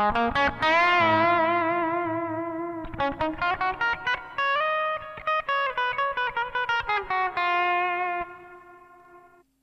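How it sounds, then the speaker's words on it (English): An electric guitar through a Zoom G1 effects pedal's hall reverb plays a melodic phrase drenched in long, spacious reverb, the notes ringing out and slowly decaying at the end. "Okay, first we have a hall reverb."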